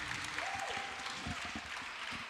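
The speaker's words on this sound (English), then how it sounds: "give them a round of applause applause for that" Audience applause at an esports event, AxieCon 2022 during a Game 7, a steady wash of clapping that holds for the whole stretch, with some voices and tones mixed underneath.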